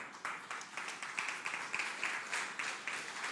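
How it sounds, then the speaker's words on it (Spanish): A church congregation claps in a steady rhythm, roughly three claps per second, with the sound coming from a moderate distance and continuing evenly throughout. "denle palmas al Señor"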